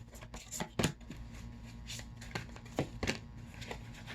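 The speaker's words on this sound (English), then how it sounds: "Let me pull a few tarot cards." Tarot cards being shuffled by hand, close and quiet, with soft riffling flutters and sharp card slaps coming in short irregular bursts.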